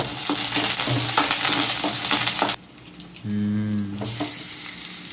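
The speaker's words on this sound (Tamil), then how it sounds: "அடுத்த கட்டமாக வெங்காயத்தை போட்டாச்சு வணங்கிட்டு இருக்குது" Onions and curry leaves frying in a pan for a village-style chicken curry, with a steady crackling sizzle and stirring that breaks off abruptly midway, then a brief low humming tone before the frying resumes.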